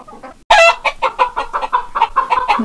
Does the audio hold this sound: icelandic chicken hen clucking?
yes